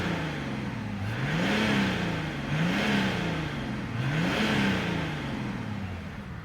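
A 2021 Mercedes-Benz E400d diesel engine idles and then revs up several times in a row, each rise in pitch falling back, heard close with no voices.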